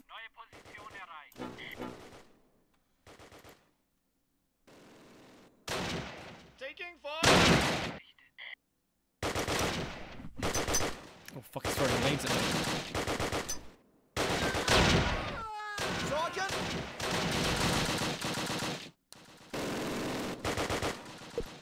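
Bursts of rifle and machine-gun fire crack out in scattered volleys during a battle west of Arnhem in the wargame Close Combat Last Stand Arnhem, separated by short silences.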